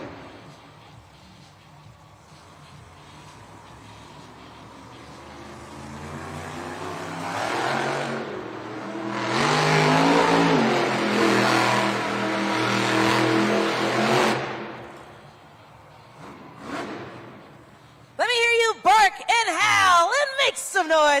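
Monster Mutt Rottweiler monster truck at a Monster Jam arena event, its engine swelling from a low rumble to a loud sustained roar and then dropping away, with an announcer talking over it and crowd noise near the end.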